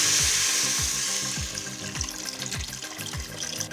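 About three and a half cups of water pour into an Instant Pot holding moong dal lentils, quinoa and teff, a steady close splashing rush with rhythmic scraping knocks underneath and no talk.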